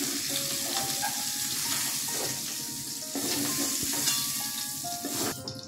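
Bitter gourd slices fry in hot oil with a steady, close, dense sizzle and crackle that holds throughout, with faint clinks near the end.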